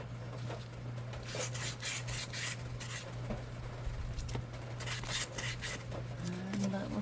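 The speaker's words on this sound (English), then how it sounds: "I just sand the edges. Make sure they're all smooth." Hand-sanding the edges of a wooden memory box, a series of soft rasping strokes in an uneven rhythm over a steady low hum, close and fairly quiet.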